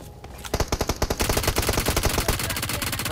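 Rapid automatic gunfire in the battle royale game BGMI, a long burst of loud, evenly spaced shots fired close by, a few isolated shots leading into sustained fire.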